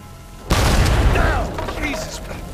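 A sudden loud explosion booms in the Uncharted 4 video game. The blast is followed by a long rumbling, crackling decay that slowly fades over the next couple of seconds.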